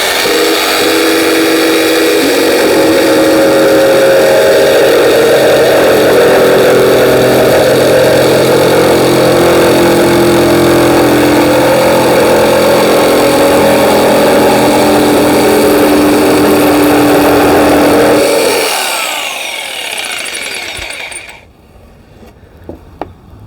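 A budget £25 jigsaw cuts a freehand curve around a corner, a loud steady motor whine with blade buzz running for about eighteen seconds before winding down and stopping, followed by quiet handling clicks.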